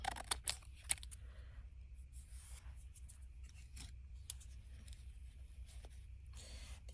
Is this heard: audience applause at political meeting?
no